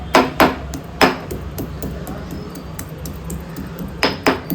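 Gandhari green chillies being crushed with a pounding tool for Coorg-style pork curry: sharp, loud knocking strikes, a few quick ones at the start, a single one after a pause, then a steady lull before another cluster of hits at the end.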